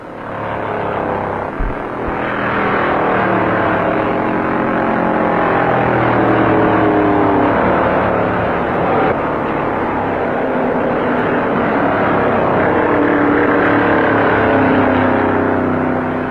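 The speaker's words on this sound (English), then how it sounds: "Banjo Matthews sends his Pontiac screaming north at 140 miles an hour" Several 1957 Pontiac stock cars race along the Daytona Beach course at about 140 mph, making a loud, continuous engine roar. The roar rises and falls slightly as the cars pass, with no talk.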